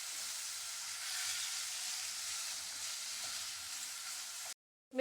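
Marinated chicken for peri peri bites fries in cooking oil in a pan, an even, fairly soft sizzle that holds steady before stopping suddenly.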